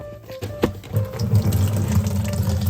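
Water gushes from an opened sprinkler system valve into a bucket, a steady splashing pour that builds after a short click and runs on continuously.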